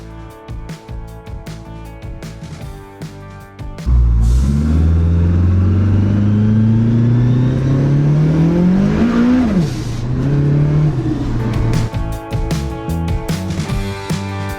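A Datsun 510 coupe with a CA18DET engine idles with a choppy, lumpy burble, then revs hard and pulls away loudly. The engine note climbs steadily through the gears before settling back to a rough idle, with no talking.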